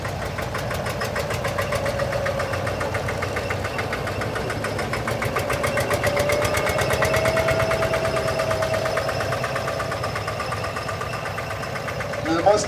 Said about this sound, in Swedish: Det är en encylindrig dieselmotor.